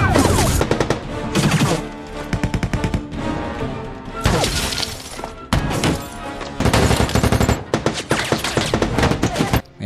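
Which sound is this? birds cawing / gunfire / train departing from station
gunfire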